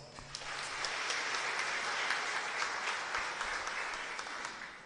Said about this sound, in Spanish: A todos ellos también muchísimas gracias y un fuerte aplauso.